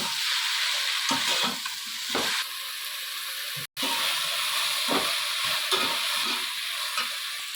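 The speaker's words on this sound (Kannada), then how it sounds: "ಇದರಲ್ಲೂ ಅಷ್ಟೇ ಹಸಿ ಸ್ಮೆಲ್ ಎಲ್ಲ ಹೋಗಬೇಕು, ಅಲ್ಲಿವರೆಗೂ ಚೆನ್ನಾಗಿ ಹುರಿಬೇಕು." Sliced ivy gourd (thondekayi) fries in a hot pan with a steady, close sizzle, broken by stirring scrapes and a brief gap midway, and no speech over it.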